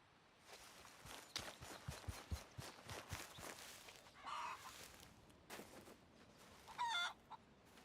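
Chickens cluck and a rooster crows in the Syn County RP western roleplay video game, with in-game footsteps tapping steadily underneath and a louder squawk near the end.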